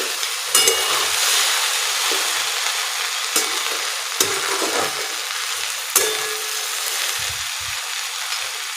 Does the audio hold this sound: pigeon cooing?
no